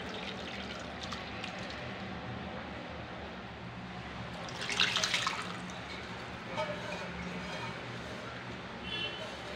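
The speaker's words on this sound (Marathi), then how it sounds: "ही भाजी आपली चांगली उकडली आहे. आता ती आपण गाळून घेऊया." Boiled drumstick leaves tipped into a strainer set over a pot, giving a short burst of splashing, draining water midway through, with quieter trickles and drips around it.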